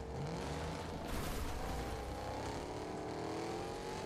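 A truck drives in the Fortnite video game, its engine droning steadily and rising in pitch as it accelerates, with a loud continuous rumble and no talk.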